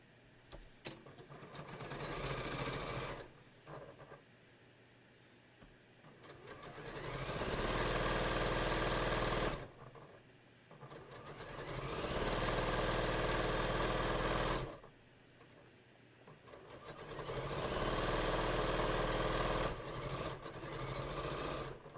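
A sewing machine stitches the bottom seam of a beach tote bag in three long runs, its motor whirring loudly, then stopping briefly between bursts.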